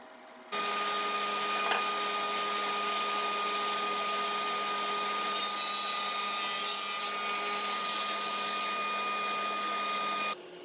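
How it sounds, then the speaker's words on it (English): A table saw with a panel sled trims side panels for a fireplace mantel bookcase surround: a loud, steady motor whine runs about ten seconds, its pitch shifting and roughening midway as the blade bites through the wood, with no talking. "I'm going to run them through the panel sled now to get the exact dimensions I need."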